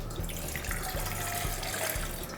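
Water pours steadily into an idli steaming vessel in a home kitchen, making a continuous close splashing flow like a running tap, with no talking.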